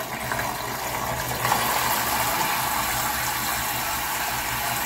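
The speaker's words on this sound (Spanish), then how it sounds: "Le vamos a poner el medio litro de agua." Half a litre of water poured into a small container while mixing a dish-soap cleaning solution, a steady continuous splashing pour that stays fairly loud and even throughout, with no voices.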